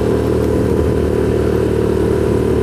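A motorcycle engine labors steadily uphill on a rural road through coffee plantations near Bogor, a continuous close drone with no pauses and no talk over it.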